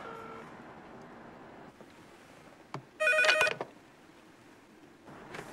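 A short electronic telephone ring bursts out once, loud and close, in a quiet room with faint background noise before and after.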